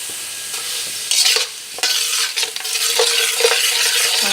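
Asafoetida and spices dropped into hot oil for homemade mango pickle, a sudden burst of sizzling with crackling pops and stirring, intermittent and close, no talk.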